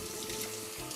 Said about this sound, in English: now I'm gonna go ahead and just wash my hands here